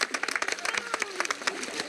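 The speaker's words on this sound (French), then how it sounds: "Une performance applaudie par toute la famille." A small family claps for a young woman's swimming achievement, a close, uneven run of individual hand claps with distinct sharp hits rather than a full roar.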